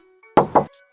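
Two quick knocks on the metal body panel of a 2018 Suzuki Baleno automatic hatchback, close and hollow, evenly spaced.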